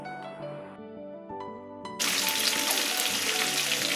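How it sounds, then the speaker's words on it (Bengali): Rohu fish head pieces sizzle in hot oil over a medium flame. A few soft clinks come first, then a loud, steady, close frying hiss fills the second half. "মাছের মাথার টুকরোগুলো এক এক করে দিয়ে মিডিয়াম ফ্লেমে আমি ভেজে নিচ্ছি"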